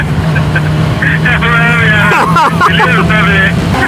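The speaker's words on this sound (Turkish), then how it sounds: "Yoksa birbirimizi duyamayacağız yani egzoz sesinden." Loud, steady engine and exhaust drone from a boat motor out on rough seas runs through the whole stretch, with someone talking over it and tonal voices rising above the rumble.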